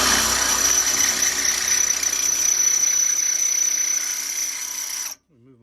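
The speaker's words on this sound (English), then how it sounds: "So let's drill this hole." An electric drill whines loudly and continuously as it bores a hole through a steel trailer jack on a livestock trailer, then stops abruptly near the end.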